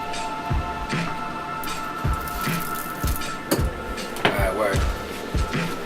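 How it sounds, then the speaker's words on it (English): Water strained off boiled eggplants for a pork stew, wet squishing and dripping sounds arriving in irregular soft splashes at close range, with a few sharper clatters. "We wanna strain these. You wanna empty out as much water as possible"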